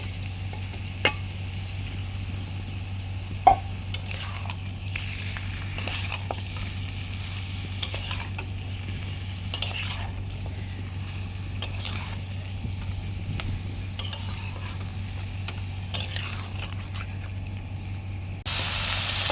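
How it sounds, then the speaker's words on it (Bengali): Chicken frying with onions in a pan gives a steady low sizzle under repeated light clinks and scrapes of a spatula, with no talking. "পেঁয়াজের সাথে কিন্তু আমি চিকেনটাকে ভালো করে ভেজে নিচ্ছি।"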